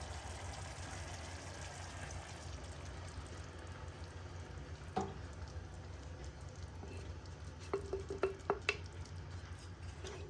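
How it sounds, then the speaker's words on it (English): Tomatoes tipped into a hot pan for an Italian mixed pasta dish begin to cook, giving a soft steady sizzle with a few wet stirring clicks and small splats toward the end, no talking. "so we're gonna be adding tomatoes"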